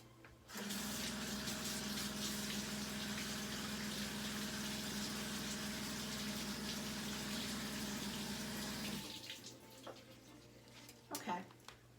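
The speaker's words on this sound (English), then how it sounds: "I'm going to throw these back in here and just run some cold water to stop the cooking." Cold tap water runs steadily into a sink over cooked shrimp in a kitchen strainer, a continuous loud splashing rush that stops abruptly, followed by a few clinks and handling noises.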